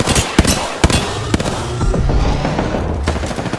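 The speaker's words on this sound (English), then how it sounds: "Getting shot at." Rapid gunfire bursts in Apex Legends crack out in quick, loud sharp shots, several distinct reports followed by a dense, rumbling stretch of continuous fire, with no talking.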